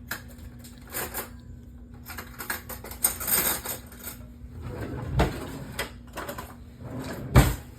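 A fork and knife being handed over in a kitchen set a burst of light metal clinks, taps and clatter going, with scattered sharp knocks coming in irregular bursts and a couple of louder thumps near the end.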